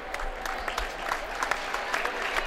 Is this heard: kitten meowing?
no